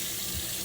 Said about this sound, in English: I just installed this, my own filtered water.